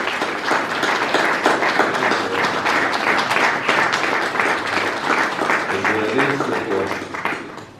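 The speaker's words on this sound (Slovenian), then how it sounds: "Pevski zasedbi za ploskajmo." An audience in a church claps for the choir, dense sustained applause that keeps an even level for several seconds and then begins to fade.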